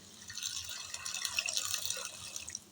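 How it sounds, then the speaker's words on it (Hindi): Water pours from a container into a pot of lentils for haleem, a faint, continuous splashing trickle close by with no talking. "थोड़ा पानी मैं और ऐड करूँगी,"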